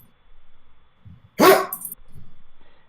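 A dog gives a single loud, close bark with a brief harsh tail, set against quiet low background murmur.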